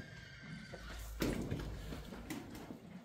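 A horse foal gives a short, faint neigh, then some low shuffling and a few light knocks at a distance.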